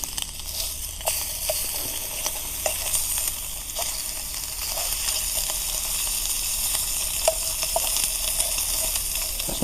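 Bacon fries in a pan over low heat at a wild campsite: a steady, close sizzling hiss with scattered small pops and crackles, continuous throughout with no talking.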